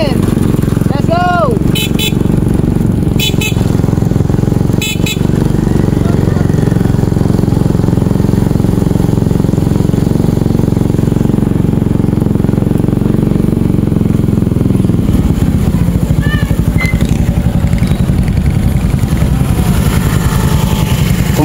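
A motorcycle ridden along on a Philippine road, its engine droning loud and constant throughout with wind rush, a couple of short horn toots early on and people talking over the noise.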